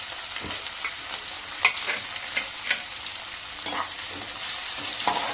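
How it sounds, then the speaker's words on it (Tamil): Finely chopped onion and curry leaves sauté in a hot pan with a steady, bright sizzle, punctuated by a few soft knocks and scrapes of a spoon stirring, close and without voices. "இது கொஞ்சம் நல்லா வதங்கட்டும்"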